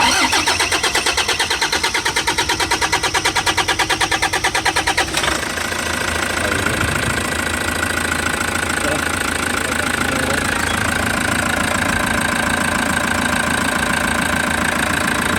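A Toyota Hiace with a 1KD diesel engine that misfires and lacks power cranks over with a loud rhythmic clatter, then catches and settles into a steady, rough idle. A voice talks near the running engine.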